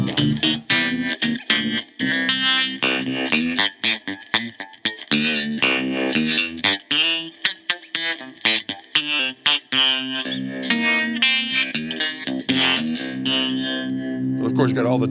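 A Reverend Pete Anderson Eastsider baritone electric guitar tuned down to C, played through distortion with a long-scale growl, riffing loud and continuous with choppy chord stabs and sustained notes throughout.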